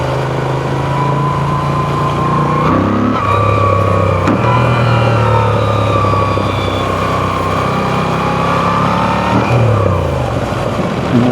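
A Moto Guzzi V7 Sport motorcycle engine runs loud and close throughout a ride, with its tone steady at first, then pulling through a few gear changes with rising revs and brief dips between shifts.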